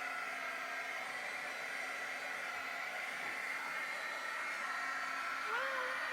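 A hair dryer blows a steady, loud roar throughout, drying alcohol from permanent marker ink on glass.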